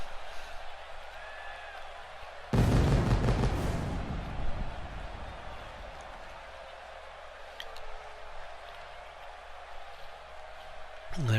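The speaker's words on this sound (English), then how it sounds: "Fireworks going off." Fireworks burst during a custom wrestler's ramp entrance in the WWE 2K18 video game, a loud crackling, booming blast that erupts suddenly, then fades into a lingering hiss and rumble beneath the arena ambience.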